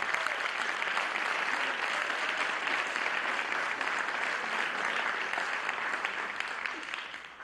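Sustained applause from a large crowd, steady and dense throughout, fading slightly at the end.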